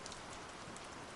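Steady rain falling and pattering on surfaces, a soft continuous hiss of drops at low level with no voices.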